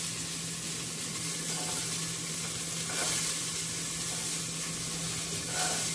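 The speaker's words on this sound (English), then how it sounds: "Sizzle. Might actually be a little too hot" Diced mirepoix vegetables frying in a very hot soup pot, a loud continuous close sizzle with a steady hiss throughout.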